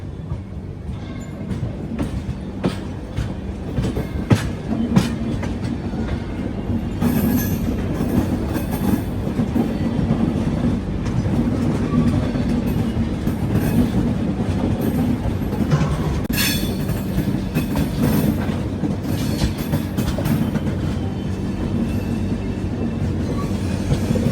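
Onboard the Rayalaseema Superfast Express running from Tirupati to Secunderabad, a continuous loud rumble of wheels on rails with clickety-clack beats and occasional squealing, close and steady throughout, no voices.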